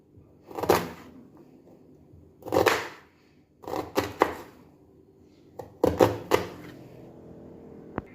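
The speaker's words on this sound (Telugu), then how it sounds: "ఇప్పుడు మనం టమాటోస్ కట్ చేసుకోవాలి టమాటోస్ అండ్ ఆనియన్స్ కట్ చేసుకోవాలి వీటిని సన్నగా తరుపుకుంటే బాగుంటుంది" A knife chops onions and tomatoes on a cutting board for paneer biryani, landing in a few separate bursts of close, sharp knocks with quiet pauses between.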